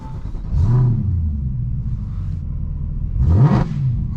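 A Mercedes C63 AMG engine turns over with a deep rumble and rises into two distinct revs, low and close, with a steady idle between them and no speech.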